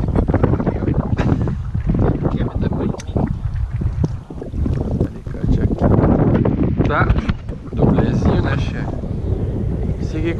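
Heavy wind roars and gusts across open water, buffeting loudly in bursts, with people talking and shouting over the noise.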